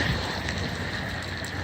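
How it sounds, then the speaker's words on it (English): Cold rain falls steadily during a chilly thunderstorm, a dense, even hiss of drops heard from inside a car with a fogged windshield. "Got a pretty nice rain."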